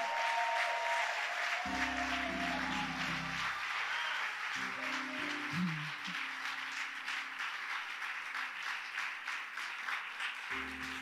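A church congregation applauding to acclaim the Lord, steady massed clapping throughout with music or voices rising and falling underneath, fairly loud and close.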